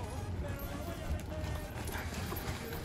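Steady hoof clip-clop of a charro horse walking, mixed into a busy, noisy outdoor background with voices.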